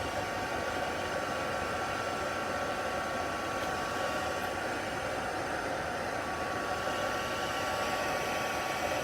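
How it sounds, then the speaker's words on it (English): A heat tool used for card making blows steadily at close range, a constant loud whooshing roar with an electric motor hum that holds unchanged throughout, with no talking. "Heat tool is still over here from last time I was on with you guys."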